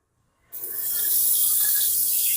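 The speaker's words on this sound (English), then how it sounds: "See if the sink works at least." Water gushes from a restaurant bathroom sink faucet at a Burger King, starting abruptly after a brief silence and then running steadily and fairly loud, alone without any talk.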